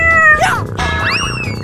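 A kitten meows loudly and close several times in quick succession, high-pitched and plaintive, with no talking.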